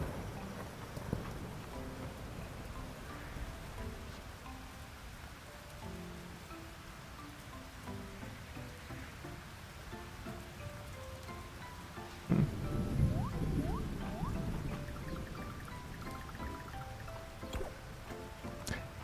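Steady rain patters in the farming video game Fields of Mistria, a soft even hiss with light drips, joined midway by a brief louder burst of game sound effects.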